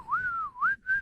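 A woman whistles a melodic tune up close: one long rising and falling phrase, then two shorter notes after brief pauses, with no talking.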